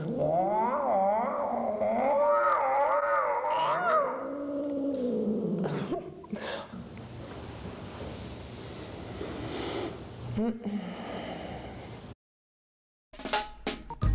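A person imitates a cat in heat, drawing out wavering, rising and falling yowls for several seconds, followed by rustling noise and brief silence.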